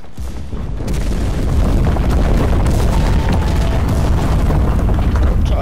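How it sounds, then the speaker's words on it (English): Continuous booming explosions and battlefield rumble in a World War 2 video game, loud and sustained with dense low-end impacts throughout and no clear talk. "Charging through the explosions."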